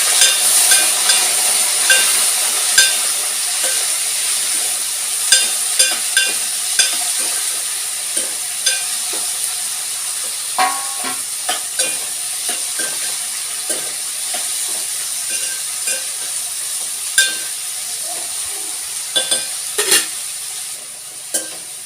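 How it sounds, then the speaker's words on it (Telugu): Bitter gourd pieces fry with curry leaves in a pan, giving a steady close sizzle and hiss with scattered sharp pops and crackles throughout; no one speaks. "సో కరివేపాకు వేసుకున్న తర్వాత దీంట్లో వచ్చేసి ఇప్పుడు కాకరకాయలను ఇట్లా యాడ్ చేస్తున్నాను"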